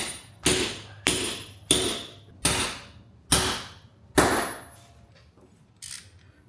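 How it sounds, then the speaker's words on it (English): An anchor bolt sleeve is hammered down during a MaxJax lift install, six loud metallic strikes at a steady pace with ringing decay, then a couple of faint lighter taps. "basically you hammer this down"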